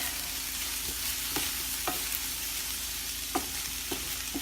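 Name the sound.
cauliflower rice with peppers cooking in a pan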